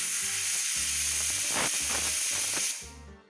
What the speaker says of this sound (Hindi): अब कुकर में लगाओ ढक्कन और इसे दे दो आराम से बढ़िया से 2 से 3 सीटी